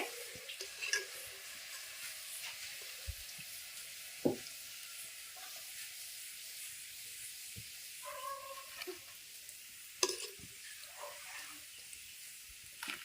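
Banana pitha fritters fry in oil with a quiet, steady sizzle, broken by occasional clinks and knocks of utensils and brief stirring noises.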